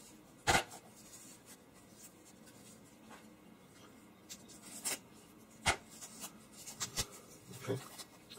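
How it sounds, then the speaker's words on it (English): Tape being cut and peeled off the wrapped tail of a plastic IL-2 model aircraft, a few sharp close snips and scratchy rustles spread through a quiet stretch. "Let's cut this tape off here."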